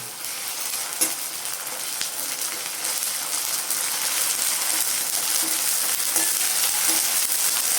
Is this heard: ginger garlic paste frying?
yes